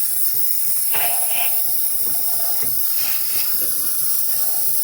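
Steam hisses from the wand of a repaired Saeco Lirika espresso machine, a loud, steady, unbroken jet throughout, with a few faint clicks and knocks underneath.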